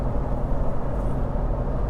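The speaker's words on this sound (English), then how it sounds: "Here we are on the highway, 65 miles per hour, 6th gear." A Jeep Gladiator cruises in sixth gear at 65 mph on a highway while towing a Geo Pro camper, giving a steady low engine drone and road rumble inside the cab with no talking.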